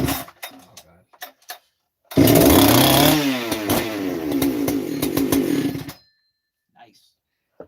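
A Husqvarna 288XP chainsaw, freshly assembled, starts up loud and close and revs, its pitch sweeping up and down for about four seconds before cutting out abruptly, with scattered talking before and after.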